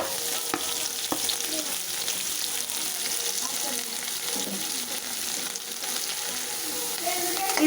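Onions and popped mustard seeds sizzle steadily in hot oil, a continuous close broadband frying hiss with occasional stirring clicks, no voices over it.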